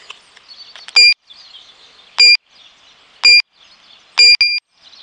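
A carp fishing bite alarm turned to full volume gives four sharp electronic beeps at roughly one-second intervals, the last a quick double, loud and close against faint outdoor birdsong.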